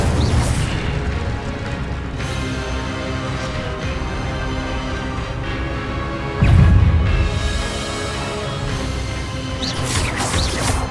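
Spells fired in Hogwarts Legacy combat land as rumbling booms and bursts over a steady layered backdrop, with one especially loud, deep impact in the middle and further blasts near the end.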